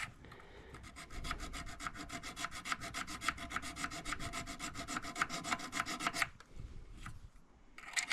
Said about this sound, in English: Really, really fine file on this too, so it's not really gouging too badly.